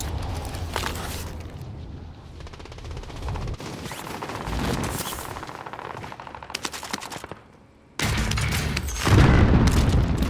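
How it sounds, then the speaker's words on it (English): Airstrike explosions in Call of Duty: Modern Warfare, heavy booms and bursts of rapid gunfire rolling on close and loud, with a brief near-silent gap before a final strong blast. "Allied precision airstrike incoming."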